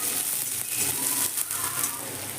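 Finely chopped onion frying in a pan over a lowered gas flame, a dense, loud, continuous sizzle with faint stirring movement.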